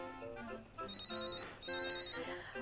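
A telephone rings quietly in repeated electronic warbling bursts, two long trilling rings separated by a short gap, with no talking over it.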